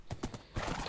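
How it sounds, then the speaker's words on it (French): Horse hooves clip-clopping in Minecraft, a quick series of close, hollow thuds, each sharp and evenly spaced, over under a second. "Cheval, monte."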